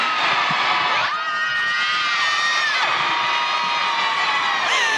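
A live theater audience at the Fox Theater in Oakland screams and whoops loudly and steadily, high-pitched shrieks and cheers overlapping in a dense, sustained roar from a large crowd.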